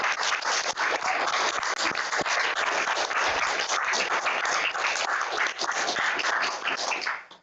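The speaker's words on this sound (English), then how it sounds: "I think Connor deserves a round of applause" A town council meeting's audience breaks into a sustained round of applause for Connor, dense steady clapping from many people filling the room for about seven seconds before tapering off.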